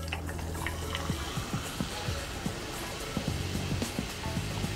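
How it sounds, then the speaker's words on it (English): Coke poured over homemade orgeat in a glass, a soft continuous liquid trickle with light fizzing pops and small splashes throughout, close and fairly quiet. "top that off with about 8 ounces of Coke."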